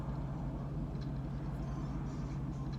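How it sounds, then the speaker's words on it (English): A loud truck passing by outside, a steady deep engine rumble that stays strong and unbroken throughout. "give me a second for this truck"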